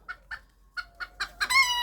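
A young rooster clucks in short, spaced bursts, then breaks into a louder, rising crow near the end, all close by with no talk.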